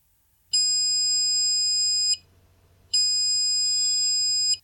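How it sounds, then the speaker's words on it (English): A Bluetooth hub sounds two long, steady electronic beeps during a connection test. Each tone lasts about a second and a half, with a short pause between them, and the beeps are clean and loud against a quiet background. "You hear two long beeps indicating that the connection is on."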